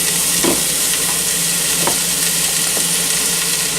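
Onions for a mirepoix sautéing in a pot over high heat, a steady close sizzle with a few soft stirring scrapes spaced through it, no voices.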